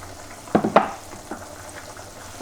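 Olive oil heating in a pan for Vlora-style jahni, giving a couple of sharp sizzling bursts followed by a faint, steady frying hiss.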